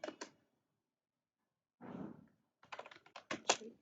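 A computer keyboard clicks close by as a command is typed, a few quick keystrokes, a pause, a softer thump, then a rapid burst of sharp key taps, with no talk.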